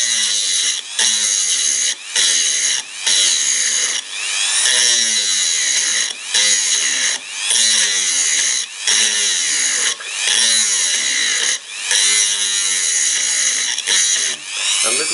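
A power drill grinds loudly into brake pad material in repeated bursts of about a second each, its pitch sweeping as it bites into the hard material, pausing briefly between passes.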